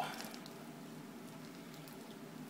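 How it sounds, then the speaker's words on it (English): Very hot water is poured over the top of an unbaked chocolate cobbler in a pan, a steady soft hiss and patter of liquid running throughout. "I got some really hot water that says just pour it over the top"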